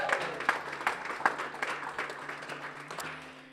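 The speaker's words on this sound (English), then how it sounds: "So let's give them a huge round of applause." Audience applause at a gala, a soft, steady patter of many hands clapping from a distance in a large room, with a faint low hum underneath.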